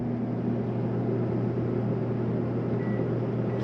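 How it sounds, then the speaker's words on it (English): A microwave oven running inside a 2016 Open Range Light 318RLS RV, a steady, unbroken electric hum with a fan-like hiss, constant in level and close by, with no voices. "working microwave."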